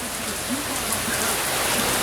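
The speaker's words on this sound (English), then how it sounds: "it's pouring rain here, and it's done this several times this week" Heavy rain pouring down outdoors in New Mexico, a loud, dense, unbroken hiss of downpour close by, steady throughout with no distinct voices.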